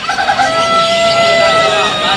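A rooster crows in a long, drawn-out call close by, and hens cluck around it, at Saddar Sunday bird market in Karachi.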